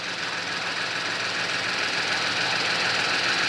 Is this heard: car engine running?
yes